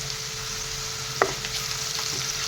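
Chilli and onion fry with added salt and turmeric, a steady close hiss of sizzling oil, with a single sharp clack of a spoon against the pan midway and light stirring scrapes after.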